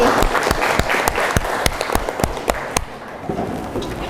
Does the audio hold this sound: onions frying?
no